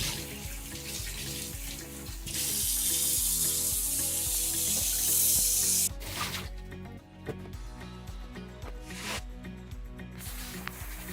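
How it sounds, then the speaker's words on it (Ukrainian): Salted fish being rinsed under a running kitchen tap: a loud, steady stream of water splashes over the fish, with a brief pause and some clattering handling noises partway through. "Так, зараз ми відмиваємо рибу від солі."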